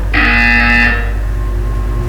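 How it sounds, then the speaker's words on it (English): A loud, harsh electronic buzzer from the video game Portal 2 sounds once for just under a second, then cuts off, leaving a low steady hum. "You will hear a buzzer. When you hear the buzzer, look down at the floor."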